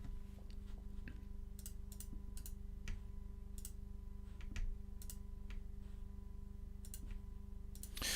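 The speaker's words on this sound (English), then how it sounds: "I'm just clicking and then holding down Shift" Sparse, sharp clicks of a computer mouse, spaced irregularly over a low steady hum, close and faint, with no talking.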